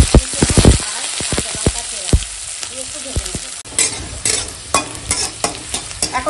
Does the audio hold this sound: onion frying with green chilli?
yes